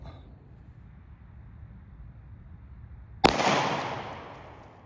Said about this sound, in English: next we're gonna step it up to a 40 caliber hollow point out of this Glock 22